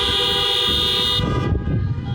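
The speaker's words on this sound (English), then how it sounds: "honk your horn." Car horns honking together at an outdoor political rally in Helena, Montana, a loud sustained chorus of blaring tones that cuts off partway, leaving a rumble of crowd and engine noise.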